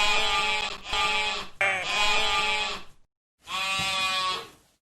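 Sheep and goats bleat in a pastoral herding scene, several long wavering calls in close succession, fairly loud and near, a brief silence before one last drawn-out bleat.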